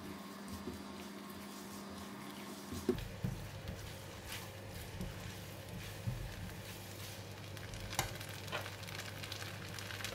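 Kuey teow noodles stir-frying with egg, spring onions and chilli in a hot pan: a soft, continuous sizzle with occasional scraping and tapping stirs, close but fairly quiet, with a faint hum underneath.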